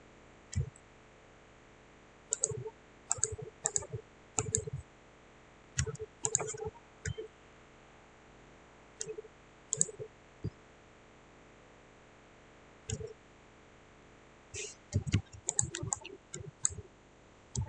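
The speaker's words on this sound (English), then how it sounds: "Okay, then again I will press D on my keyboard" Computer keyboard key presses and mouse clicks during KiCad PCB design, sharp isolated clicks and short quick clusters separated by pauses, close and fairly quiet over a faint steady hum.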